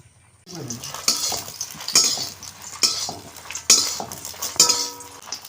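Chilies sizzling in cooking oil in a pan for mango pickle, stirred with a metal spoon that scrapes and clinks in a regular rhythm of strokes over the steady frying hiss.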